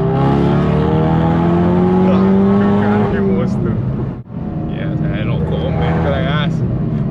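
A car engine revving and droning loudly while driving, with a strong steady harmonic whine that rises, dips sharply for a moment as if shifting, then resumes; occasional voices are faintly audible.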